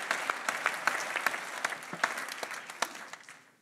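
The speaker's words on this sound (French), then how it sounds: "Je t'applaudis aussi." An audience at an autumn evening debate event applauds with brisk, scattered clapping that gradually fades away.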